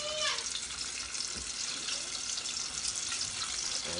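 Fluke fillets sizzle in hot oil in a low pot, giving a steady, close crackling hiss that holds throughout with no break or pause.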